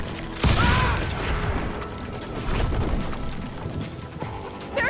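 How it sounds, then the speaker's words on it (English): Gunfire in the street in Call of Juarez: Gunslinger, a loud blast near the start, then scattered shots, clatter and crashes amid a chaotic western shootout, with a final sharp report at the end. "They're shooting in the street!"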